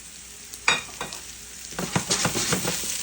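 Onions, garlic and artichoke hearts sizzling in a hot frying pan, with a hiss under a few scraping stirs and clatters of a utensil against the pan, close and fairly loud.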